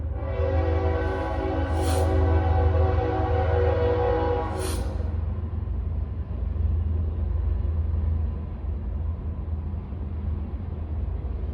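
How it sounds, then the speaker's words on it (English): A train rumbles past steadily with a loud, near horn sounding two long blasts in its first few seconds, then the heavy rolling of the railroad cars continues alone for several more seconds. "sorry for that train"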